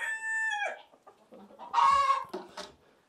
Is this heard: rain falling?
no